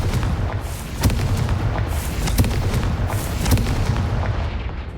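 Confringo blasting spell going off in the game Hogwarts Legacy, loud booming explosive blasts with rumbling low end and repeated sharp impacts, dense and continuous, with no talking.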